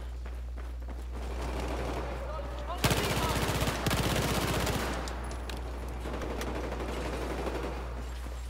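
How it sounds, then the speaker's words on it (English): Rapid automatic CZ-3A1 PDW fire in the shooter game Battlefield 4: two dense bursts mid-clip over constant low-pitched hum and game ambience, with faint footsteps and scattered shots before and after. "I'm using the CZ3A1, it's a PDW, and it's my go-to gun"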